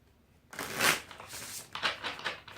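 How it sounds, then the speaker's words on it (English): A deck of tarot cards is shuffled close by in several quick riffling bursts, the papery flutter rising and falling over about two seconds. "So I'm just gonna go ahead and shuffle this whole deck."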